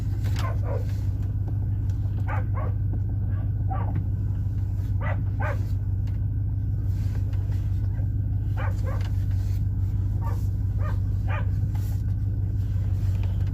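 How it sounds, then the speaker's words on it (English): A dog named B barks repeatedly at a running truck, sharp close barks in uneven bursts over a steady, loud low engine rumble. "Run around barking at it every time you start any kind of a motor."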